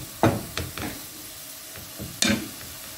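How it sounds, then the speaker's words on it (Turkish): Fatty ground beef with a splash of water cooks in a pan on the stove, a soft sizzle underneath a few sharp clanks and scrapes of a utensil stirring, no one speaking. "Kıymamız yağlı olduğu için pişerken yapışmasın diye birazcık su koyuyoruz. Bu şekilde ocağa koyduk."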